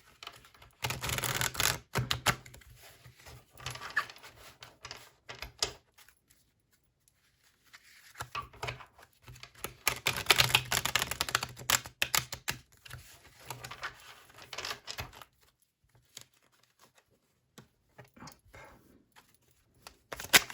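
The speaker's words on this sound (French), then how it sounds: "Désolée pour le claquage de cartes" Tarot cards being shuffled and slapped down, with quick bursts of papery riffling and sharp flicking clicks coming in clusters separated by quiet pauses.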